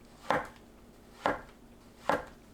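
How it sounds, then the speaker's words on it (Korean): A kitchen knife cuts trimmed shiitake mushrooms into flat slices on a cutting board, three separate crisp chops landing about a second apart, close and clear against a quiet room. "표고버섯은 딱딱한 대 끝을 손질하고 납작하게 썰어주세요"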